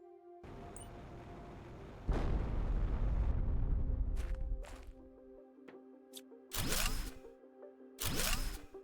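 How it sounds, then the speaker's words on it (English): Bombs blowing a hole in terrain in The Planet Crafter, a heavy rumbling blast that swells and fades over a few seconds, followed by two sharper booming bursts, loud and close with no talk. "Let's finish blowing up that hole"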